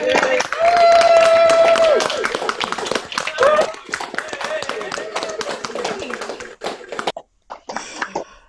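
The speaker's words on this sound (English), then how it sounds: "So please unmute yourself, cheer, clap, or otherwise rejoice in any way you like" Remote audience for a 2021 School of Music graduation celebration claps, cheers and whoops over an online call, a lively mix of overlapping unmuted voices and scattered hand claps throughout, thinning toward the end.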